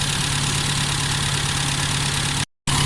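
A car engine idles steadily nearby at about 700 to 750 RPM with an even mechanical hum and vibration, briefly cut by a moment of silence near the end.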